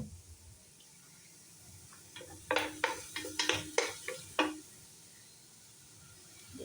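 Beef being washed with water in a sink or pot for Nilagang Baka, heard as a close burst of splashing and clattering rinse sounds in several quick pulses, alone in an otherwise quiet kitchen.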